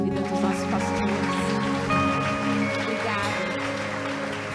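A church congregation applauds in praise for their pastors, broad clapping spread under sustained instrumental worship music with held tones throughout.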